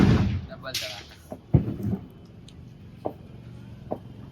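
A toy cap gun loaded with two paper cap rolls together fires a handful of sharp, close cracks spaced over a few seconds, with voices in the background.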